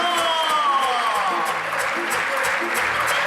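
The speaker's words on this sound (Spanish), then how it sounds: "¡Aplausos!" An audience at a circus clown act applauds steadily and fairly loudly, a dense continuous wash of clapping with some crowd noise and a voice briefly audible underneath.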